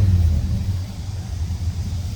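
A 1955 gasser car with dual quads idling nearby, a steady low throaty rumble with slight uneven pulsing that holds at fairly loud level throughout.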